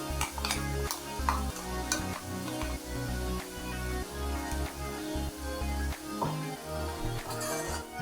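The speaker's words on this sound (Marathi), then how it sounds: "छान तेलावर असं छान परतवून घ्यायचं आहे" Kolhapuri chicken masala is stirred as it fries in oil, with a spoon scraping and tapping the pan in an uneven rhythm over a soft, continuous sizzle, close and moderately loud.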